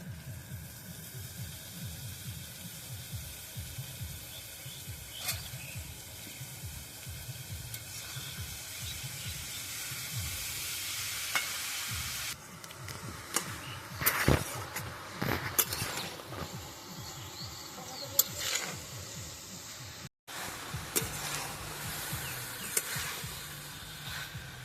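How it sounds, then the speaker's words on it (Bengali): Banana flower sautéed with chicken and spices hisses and sizzles steadily in the pan, with occasional scraping stirs and sharper crackles, moderately close and continuous, no voices heard. "আমরা মোচাটাকে একটু ভালো করে কষিয়ে নেব বন্ধুরা।"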